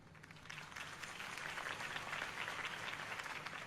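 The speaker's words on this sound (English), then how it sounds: "If only Mr. Wayne, my campaign's largest backer, could have heard that applause" Crowd applause in the video game Batman: The Telltale Series, a dense wash of many hands clapping that swells slightly and holds steady, heard at a moderate distance.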